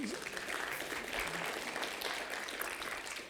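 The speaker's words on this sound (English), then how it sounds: "you guys can go ahead and clap now" Church congregation clapping during a business meeting, a steady, moderately loud burst of applause spreading through the room, with some indistinct voices mixed in.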